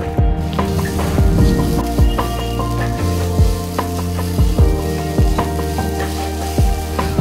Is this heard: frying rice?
yes